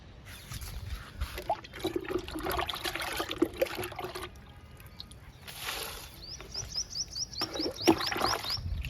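Liquid is poured from a container onto garden plants such as oleander, a steady nearby trickle and splash that comes in uneven surges over low background noise.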